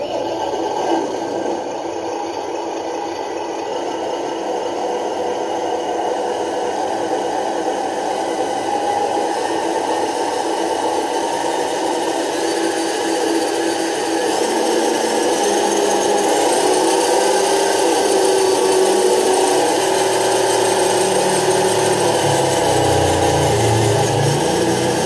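Electronic engine sound kit fitted to a WPL B36 RC off-road truck, producing a steady synthetic engine drone that rises in pitch and loudness as the throttle is opened, alone with no talk.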